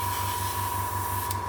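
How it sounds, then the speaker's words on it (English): An airbrush sprays paint onto a 1/48 Airfix Avro Anson Mk.1 model kit, giving a continuous, close, even hiss with a faint steady hum beneath it. "Well, I've just changed airbrush, and it seems to be working a lot better."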